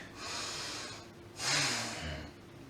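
A deep breath during a seniors' home exercise routine: a long audible inhale, a short pause, then a fuller, louder exhale close to the microphone.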